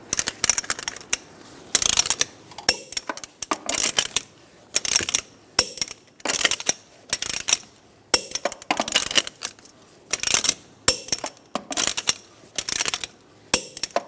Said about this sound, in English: I'm going to torque the wheels to 100 foot-pounds